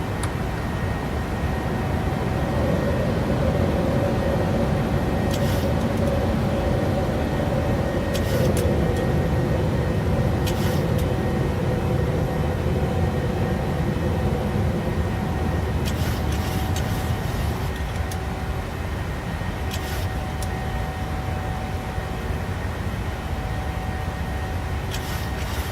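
A simulated PMDG 737-800 jet in Microsoft Flight Simulator 2020 rolls and climbs away on takeoff from Oslo, a loud continuous engine roar and rumble with a few faint clicks and tones over it.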